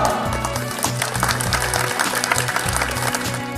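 Students on a school mountain-climbing trip applaud their teachers, steady clapping over a rhythmic pulsing music track, with the two blended at similar loudness.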